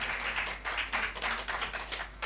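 Conference audience applause, a moderate patter of many hands clapping in uneven bursts, heard from a distance and fairly faint, with no talking over it.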